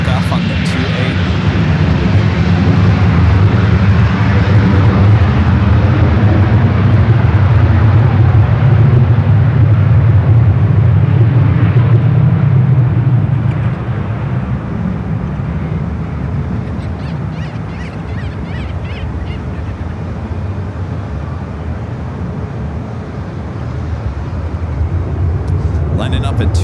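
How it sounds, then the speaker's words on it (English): An airliner takes off from runway 28 at San Francisco International Airport, its deep engine roar loud and sustained before easing off, with radio voices talking over it. "Should be the next takeoff on the 28."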